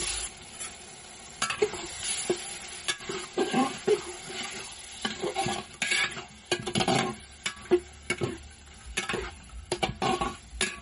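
Chicken meat going into a pot for chicken biryani, with clinks, scrapes and stirring knocks over a soft background sizzle, close and fairly quiet, with no talking.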